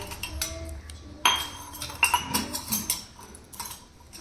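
Glassware and dishes clink as items are set down, with a sharp knock followed by several lighter clinks and rattles at close range.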